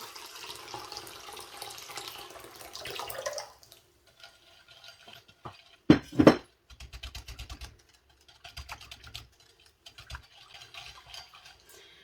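Water pours briefly onto lemon and orange for homemade lemonade, a short splashing burst framed by quieter kitchen handling noises and clinks.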